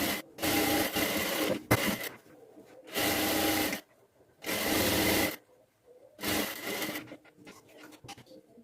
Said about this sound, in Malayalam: ഒന്നുകൂടി സ്റ്റിച്ച് ചെയ്തെടുക്കാം.